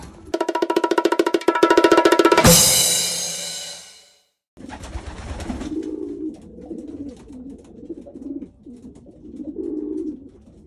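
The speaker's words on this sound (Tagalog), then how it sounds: "Yun mga kalapatids, ito yung mga stock bird natin" Stock pigeons coo in a loft, a low, soft, repeated burbling that runs through the second half, following a louder electronic-sounding passage and a brief gap.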